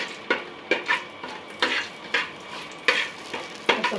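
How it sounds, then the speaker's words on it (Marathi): Whole spices such as cinnamon and black pepper are tempered in hot fat in a pan while being stirred. Close, repeated scraping strokes come at an irregular rhythm over a soft sizzle, with no voices. "आता हे फोडणी द्यायचा प्रकार चालू आहे थोडा."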